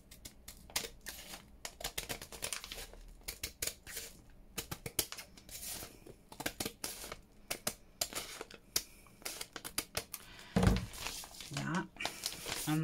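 Small scissors snipping paper while making an autumn-themed envelope junk journal cover, a run of quick close crisp cuts and rustles, with a louder thump near the end.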